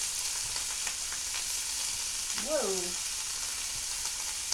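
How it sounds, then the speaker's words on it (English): Rinsed canned chickpeas tipped into a hot pot for a one-pot chicken, white bean and orzo dish, giving a steady, close sizzle throughout, with one short exclamation from a voice midway. "so I've got my can of chickpeas. I rinsed them. You always want to rinse them. I'm going to throw those in."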